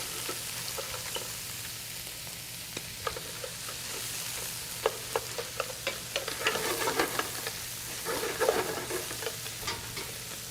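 Lobster shells frying in a pot for a Maine lobster bisque, giving a soft, continuous sizzle broken by scraping stirs and clicking knocks that grow busier toward the end.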